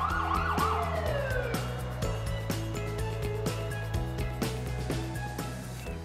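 Fire engine sirens wail during a building evacuation, a loud, steady rising and falling tone with music-like tonal layers underneath, no talking.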